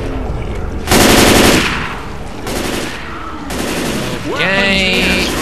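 Automatic gunfire in the video game Left 4 Dead 2, loud rapid bursts in several separate volleys with game sounds between them.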